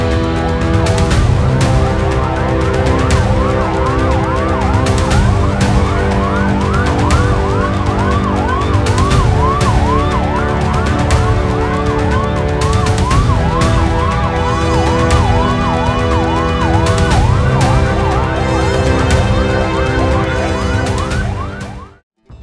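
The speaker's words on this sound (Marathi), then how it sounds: "आज सकाळी बेळगाव सांब्रा विमानतळावर अचानक सायरन वाजू लागले" Emergency sirens wail continuously during an emergency preparedness drill at Belagavi Sambra airport, loud, near and overlapping, with repeated rising and falling sweeps and steady tones and no talking.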